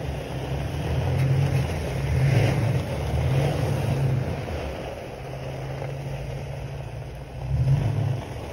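A truck engine runs steadily nearby while a trailer is hitched, a low idling rumble with mild swells in revs and no speech.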